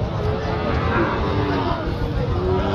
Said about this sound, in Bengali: সামনে দেখতেছেন যে বেশ চাহিদা সম্পন্ন যে সকল ষাঁড় বাছুর গরু